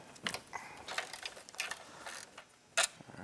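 Quick ratcheting clicks from a ratchet loosening a bolt on the rear brake master cylinder of a Honda CBR 600 RR, several short bursts of pawl clicks, close and fairly quiet, no talk.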